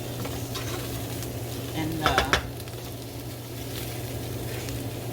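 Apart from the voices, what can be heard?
chop suey frying and being stirred in a pan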